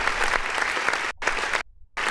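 A canned applause sound effect triggered by a clap button on a music review show, a dense burst of crowd clapping that cuts out abruptly twice, glitching with sudden gaps of silence before resuming.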